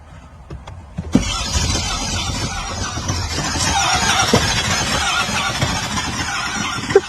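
A brand new GM truck with 9,000 miles cranks and fails to start. The starter whirs steadily for several seconds after a few faint clicks, ending with a sharp squeal.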